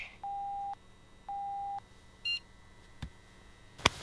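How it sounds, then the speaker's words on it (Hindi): A phone gives two long, steady electronic beeps in a row, followed by a short burst of higher notification tones, then a faint click and a sharp tap near the end. "जिग्नेश पटेल उठी जाओ, तेरे जूते के लिए मैसेज आया।"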